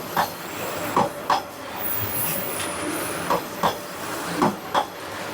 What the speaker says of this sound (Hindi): बस ट्रेन बस कुछ इंचेस दूर से गुजरती है आपके